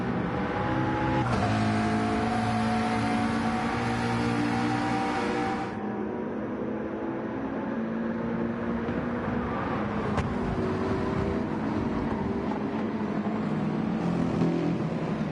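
Race cars lap the Daytona Road Course in Gran Turismo 7, with a McLaren among them, their engines droning loudly and steadily throughout as revs rise and fall and other cars pass.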